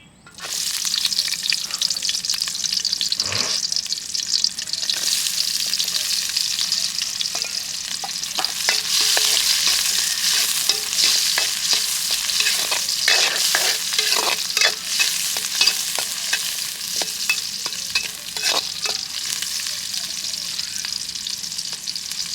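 Onions sizzling steadily in hot oil in a pan while a spoon stirs them now and then, the scraping strokes cutting through a constant bright crackle, close and loud with no talking.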